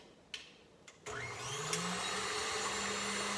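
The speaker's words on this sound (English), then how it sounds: "I'm gonna go into my KitchenAid with those 4 egg whites" A KitchenAid stand mixer beating four egg whites: a few soft clicks, then the motor whirs up and runs as a steady, rising electric hum with a whisking whine, fairly quiet and alone.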